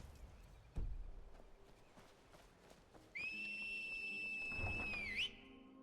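A summoning whistle rings out as one long steady tone for about two seconds in a Skyrim game world, with faint hoof-like thuds and rustling around it and a brief drop in pitch at the end.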